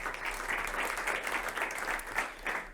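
Audience applause fills an automotive industry conference hall, a steady sustained clapping from a crowd with no voices over it.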